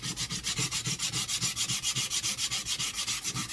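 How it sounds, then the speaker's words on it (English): Steady back-and-forth hand sanding on wood, a regular rasping stroke repeating about six times a second, close and fairly loud, with no voices. "let me give this a quick little sanding"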